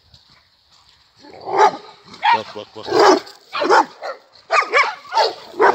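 Several dogs bark and yip at a dog park in short bunched volleys, close and loud, with people talking over them.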